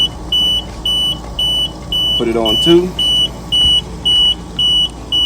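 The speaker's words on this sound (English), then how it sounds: "Once it registers, you hear the alarm go off." An oxygen concentrator alarm beeps in a steady run of short, evenly spaced tones near the microphone, with a person speaking briefly partway through.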